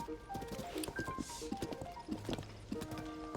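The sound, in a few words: horse hooves on a bridge in Zelda video game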